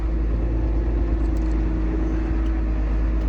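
Steady low motor hum from the wheel motor of a Case sprayer moving its wheels outward on a rocker switch, an unbroken droning rumble that holds even and fairly loud, with no talking.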